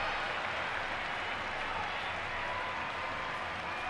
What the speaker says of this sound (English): the crowd roar for the Japanese just behind them